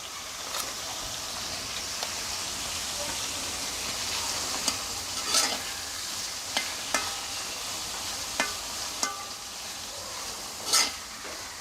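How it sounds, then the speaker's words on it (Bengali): Onions and whole garam masala frying in oil for a river small fish malai curry, a steady moderate sizzle punctuated by several sharp spatula clicks and scrapes against the pan. "এখন পেঁয়াজটাকে বাদামি কালার করে ভেজে নেব।"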